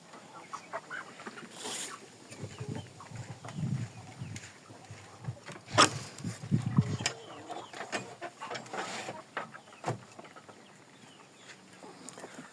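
Young chicks cluck and peep on a farm near a barn, scattered soft calls and rustling with a few sharper chirps, fairly close and quiet.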